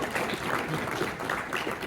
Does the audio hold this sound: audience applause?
yes